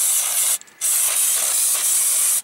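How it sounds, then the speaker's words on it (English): Spray cleaner sprayed onto a car's throttle body in two loud, close, sustained hissing bursts with a brief pause between them. "But usually the spray cleaner will get most of it good enough for you."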